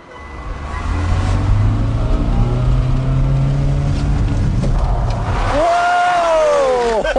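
A car doing a handbrake turn into a parking gap: a steady, close engine drone runs throughout, then near the end tyres squeal loudly in a sliding, wavering screech.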